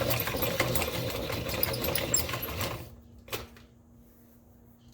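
A pencil sharpener grinds colored pencils with a dense, close whirring rasp for about three seconds, then stops, leaving a faint knock and a quiet room.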